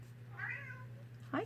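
A house cat gives a drawn-out meow up close, then begins a second short meow at the very end, both sounding over a faint steady hum.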